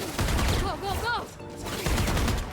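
Gunfire from a Valorant agent shooting while sliding, sharp shots layered with game sound effects and rising tonal sweeps, with a voice speaking over the action.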